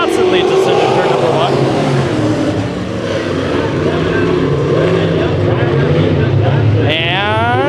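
Race cars at Bakersfield Speedway roaring off the start of a heat race, a loud continuous engine drone with rising revs near the end, under a commentator talking over it.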